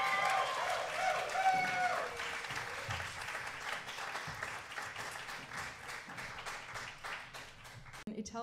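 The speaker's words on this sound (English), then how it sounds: "could we give an applause to Kirka on cello" Audience applause for a cellist at a live theatre performance, a dense clatter of clapping that starts under fading music and voices and continues steadily until it cuts off near the end.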